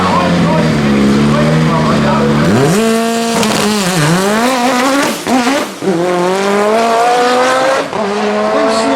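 A no-prep quarter-mile drag race car at Manston Raceway roars loudly, its engine note climbing in repeated rising sweeps as it pulls through the gears, with tire squeal mixed in.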